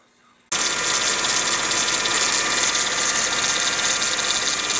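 After a brief near-silence, a 2004 Mercedes C320 4Matic engine starts following a water pump replacement and settles into a steady, close idle with a hissy mechanical whir that runs unchanged to the end, with no voices.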